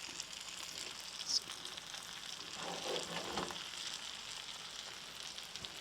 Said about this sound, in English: the fish is getting cooked through